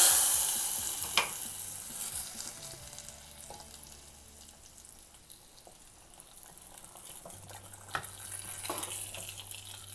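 A tempering is added to appalam kootu, a papad dal curry, in a pan: a soft sizzle and bubbling simmer with brief stirring scrapes, fairly quiet and steady, with no talk.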